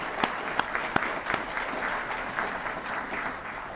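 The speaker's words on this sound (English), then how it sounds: "Let's give them a round of applause." Steady applause from an audience at a health care policy event, honoring the sponsors; dense clapping with a few sharper individual claps standing out, moderately distant and sustained throughout.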